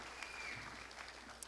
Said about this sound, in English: Please give all of our semifinalists another round of applause.